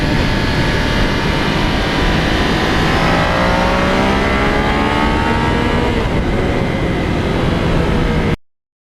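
A 2020 Yamaha MT-09 motorcycle ridden on a country road: a loud, steady engine drone with rising and falling revs through gear changes and strong wind rush, continuous until an abrupt cutoff.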